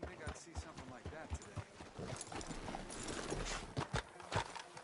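Horse hooves clip-clop in a video game, a brisk rhythmic run of close hoof clatter over a steady bed of game ambience, with a voice talking faintly underneath.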